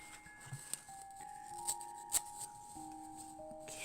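Scissors snipping paper for a decoration in a traveler's notebook journal, a few faint short crisp cuts at a quiet desk, with soft background music tones and no talking.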